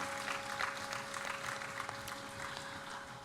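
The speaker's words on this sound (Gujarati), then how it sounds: "એકવાર સ્વામીના આ દાખલાને આપણે બધા તાળીઓના નાદથી વધાવીએ." Gathering at a tribute to a Hindu swami applauding together; faint, distant-sounding clapping spread evenly across the short stretch, with a steady tonal hum beneath.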